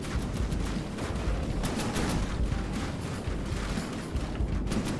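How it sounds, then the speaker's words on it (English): Continuous roaring, crackling barrage of missiles launching from an opened hatch in the video game From the Depths, a dense, steady rumble of rapid bursts filling the whole stretch. "launching out missiles."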